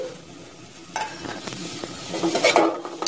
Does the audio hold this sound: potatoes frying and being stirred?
yes